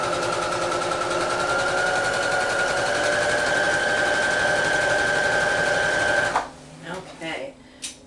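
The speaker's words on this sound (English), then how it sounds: "Okay, then back stitch it, lift, release, and then cut off the excess thread, just like always." A sewing machine stitches fabric in a loud, steady, continuous rattling run for about six seconds, then stops abruptly, leaving a few softer handling noises and a brief voice.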